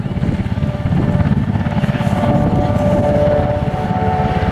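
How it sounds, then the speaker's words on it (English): A Sea King anti-submarine and troop-carrier helicopter flying at an airshow, its rotor giving a loud, steady, rhythmic chopping thrum throughout. "The Sea King, primarily designed for performing anti-submarine warfare, but also used as a troop carrier"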